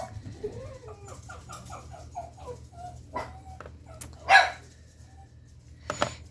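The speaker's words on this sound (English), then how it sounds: "They are paving outside my house today and my dogs are going crazy." Several pet dogs bark and whimper indoors at traffic stopping by a house where road paving is under way, with a run of short yips and barks, then scattered louder barks over a low rumble.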